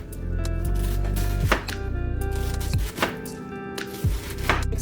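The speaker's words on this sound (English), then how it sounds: "And this is how I'm cutting my cabbage." A knife chops through a quartered cabbage on a cutting board, giving a run of loud, close, rhythmic thuds with crunchy slicing between strokes, no talking.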